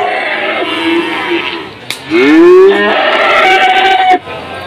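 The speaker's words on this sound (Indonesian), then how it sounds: "saya berada di pasar sapi Padangan Bojonegoro Jawa Timur" Cattle moo loudly and close by, with several drawn-out calls over a busy background of other animals and distant voices at the Padangan cattle market in Bojonegoro, East Java, Indonesia.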